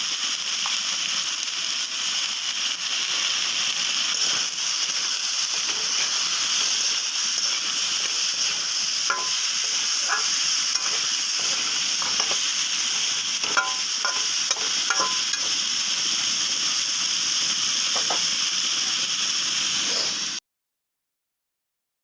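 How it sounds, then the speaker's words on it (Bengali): Vegetables frying in a pan for a mugdal sabzi, a continuous close sizzle with intermittent scraping and clinking as they are stirred, steady in loudness until it cuts off abruptly. "ভালো করে ভেজে নেব এগুলো সবজিগুলো।"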